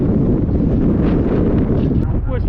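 Strong, steady wind roars across the microphone on a hillside on the way up Helvellyn while riding a DIY electric BMX, a dense continuous buffeting rumble filling the whole stretch without a break.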